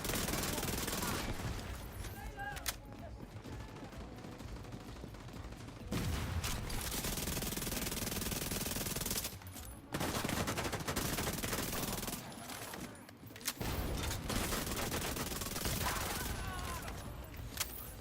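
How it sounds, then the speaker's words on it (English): An SMG fires in sustained, rapid bursts during close-quarters combat in The Division 2, loud and dense with brief pauses between strings of shots, while a voice talks over the action. "Need that first kill with this gun."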